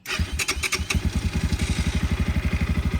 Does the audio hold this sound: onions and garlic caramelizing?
no